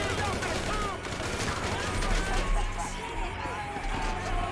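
Rapid gunfire from GTA V rattles in dense bursts over several seconds, loud and busy, with someone talking over the shooting.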